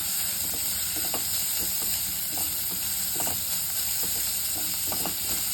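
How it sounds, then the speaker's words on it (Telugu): Onions frying in a pan for a chana salad, a steady sizzling hiss with scattered stirring scrapes and clicks throughout, close and continuous with no talking. "ఇది కొంచెం పింకిష్ కలర్లో వచ్చేంత వరకు దీన్ని వేయించుకుందాం మనం"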